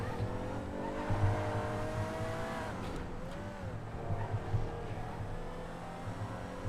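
A Vagner supercar lapping a track in GTA 5, its engine droning steadily and shifting in pitch as it accelerates and brakes, with tire squeals through the corners, continuous and close, with no talking.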